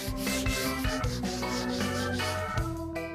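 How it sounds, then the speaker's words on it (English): Continuous abrasive sanding on wooden doors, steady and loud, with a rhythmic rubbing texture that varies slightly as the sander moves. "There's a whole morning of sanding to do."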